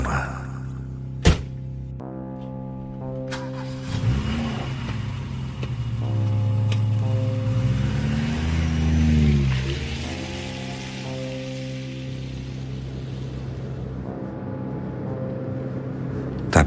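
A used car being driven home: a low engine drone swells and bends in pitch midway, set among soft rain-like hiss and sustained musical tones, with no talking.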